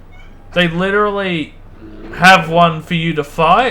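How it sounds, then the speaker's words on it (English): A pet cat meowing close by, a long drawn-out cry followed by several shorter meows, mixed with a person talking. "That's my cat."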